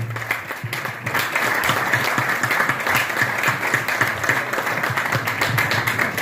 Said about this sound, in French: ça on peut l'applaudir.